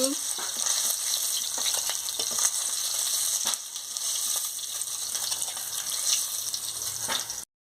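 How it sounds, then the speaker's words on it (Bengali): Sea fish fry in hot oil, a loud continuous crackling sizzle close to the pan with scattered sharp pops and faint utensil movement throughout. "এখানে মাছটা ভাজা হয়ে গেছে আমি এক এক করে তুলে নিচ্ছি"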